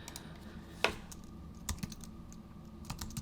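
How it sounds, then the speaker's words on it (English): Typing on a computer keyboard, with quiet, close key taps in an irregular patter and one sharper keystroke standing out. "Just gonna type out Magic Bullet Look."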